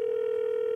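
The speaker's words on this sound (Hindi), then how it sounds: "दूसरे कॉलर को फोन लगाते हैं" A steady telephone dial tone heard while placing a call to a caller, a continuous unbroken hum that is loud and close with no voices.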